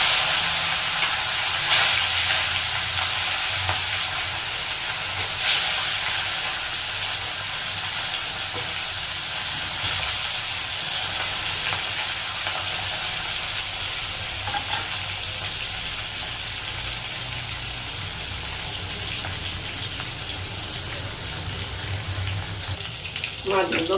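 Snakehead fish frying in hot oil in a wok, a dense, continuous sizzle and crackle that holds steady and close throughout with no pauses.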